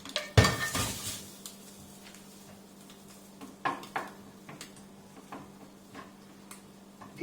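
A used frying pan set aside in a home kitchen while cooking pulled beef burgers, with one loud metallic clatter at first, then scattered light clinks of pots and utensils.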